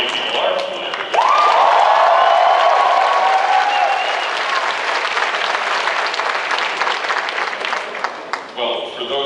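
A convention panel crowd at New York Comic Con breaks into loud sustained applause with some cheering, swelling suddenly and then fading, with voices audible over it.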